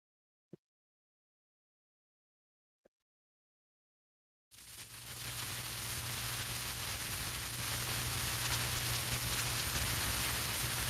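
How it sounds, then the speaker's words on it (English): Steady rain comes through a Discord voice call. Two faint clicks sound first in near silence, then a dense, continuous wash of rainfall starts abruptly and holds at an even level to the end. "it sounds like it's raining over there, Rio"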